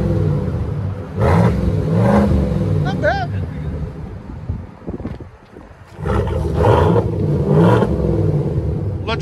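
A Chevy Silverado with the 5.3L V8 and a Borla Touring exhaust revs in several loud, close blips, each a deep roaring swell with a lull between, while a person talks faintly in the background.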